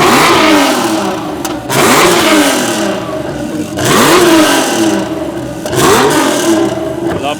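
A supercar engine revs hard at a loudness contest during a supercar weekend at Beaulieu, loud and close, in three long surging blips with brief dips between them.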